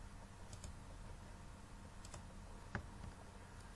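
Soft keystrokes on a computer keyboard as a folder name is typed during a PCB design software installation, quiet scattered clicks with one slightly louder tap over a steady low hum.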